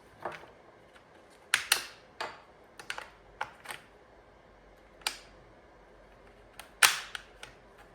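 A low-powered launcher fires light 2.5 gram balls at a target, producing sharp, dry cracks and snaps at irregular intervals, some louder than others, separated by near silence.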